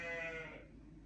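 A single thin, high bleat from a newborn lamb, close and soft, fading out after half a second.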